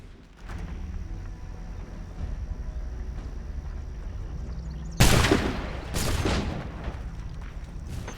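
Low rumbling background, then a sharp, loud musket crack in Assassin's Creed 3 Remastered, followed by a second shot about a second later, with echoing tails.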